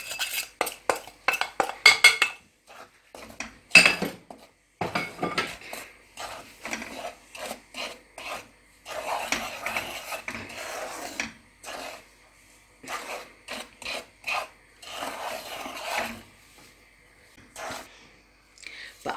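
Rice flour is dry-roasted in a pan for murukku, with a utensil scraping and clinking against the metal in short, irregular bursts separated by quiet gaps, close by.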